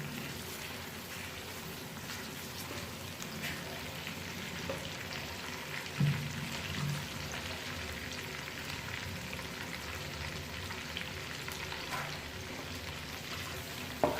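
Green chillies frying in oil for a gobi gosht recipe, a steady, even sizzle with a crackling hiss that carries on throughout with no talking.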